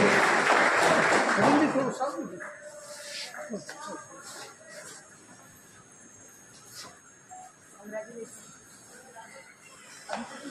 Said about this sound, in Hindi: जोरदार तालियां हर्षिता ठोडिया के लिए।